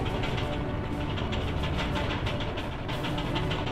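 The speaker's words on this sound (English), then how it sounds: "the noises in the engine, the roar in the engine" A steady, dense roar of a rocket engine in the VR game Go For Launch: Mercury fills the whole clip, loud and unbroken with a faint rhythmic rumble underneath.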